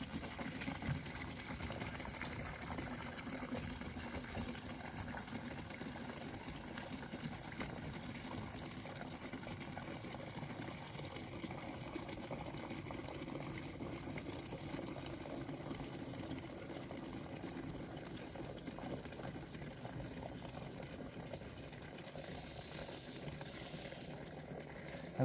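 Water runs from an opened valve into a herbicide sprayer tank on a mountain field. It makes a steady, even rushing and bubbling that continues unbroken throughout.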